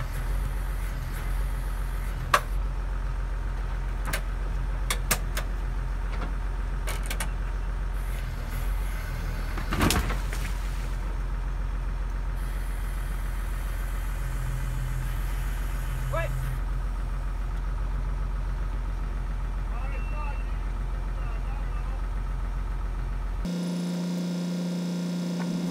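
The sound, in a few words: John Deere loader engine pulling out concrete cattle gate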